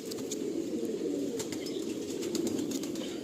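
Pigeons in a crowded loft holding hundreds of birds, with a steady murmur of cooing and occasional wing flaps, close and continuous throughout.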